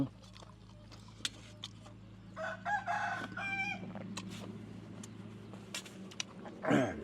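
A rooster crows across a quiet farmyard, with a second crow nearby toward the end and scattered clucks and rustles in between.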